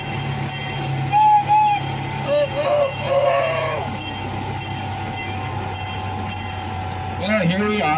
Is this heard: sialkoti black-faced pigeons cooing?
no